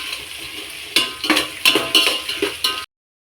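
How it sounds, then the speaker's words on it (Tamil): Utensils clink and scrape as onions and green chillies are stirred while sautéing in a pan for chicken dum biryani, a series of close, uneven metallic stirring strokes with no sizzle to speak of. "வெங்காயம் நல்லா வதங்கி ப்ரௌன் கலரில் வந்துருச்சு"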